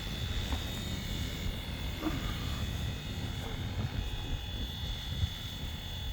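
A Flywing FW450 two-bladed RC helicopter flies in a steady, droning whir that holds an even level throughout, with a faint high tone running underneath.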